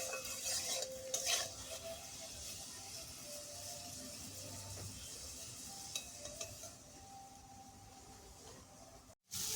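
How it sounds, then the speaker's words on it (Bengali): Eggplant pieces frying in a pan with salt and a little turmeric, browning to a reddish color; a soft, steady sizzle with faint stirring scrapes throughout, quiet and close, ending in a brief cutoff. "চলো বেগুনটা একটু লাল লাল করে ভেজে নেবো"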